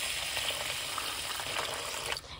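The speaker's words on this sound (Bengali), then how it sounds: "এবার চালে আমি জল দিয়ে দেবো।" Water poured from a vessel onto raw rice and lentils in a pot for khichuri, a steady rushing, splashing wash of liquid lasting about two seconds, close and fairly loud, then tapering off.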